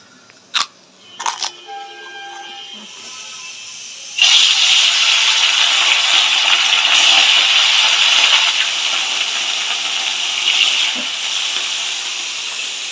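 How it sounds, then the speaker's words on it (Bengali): Khoira and phasa fish frying in hot oil in a home kitchen begin as a few quiet clinks, then break into a loud, continuous spitting hiss that carries on steadily. "মা মাছগুলো তুমি ভেজে নাও।"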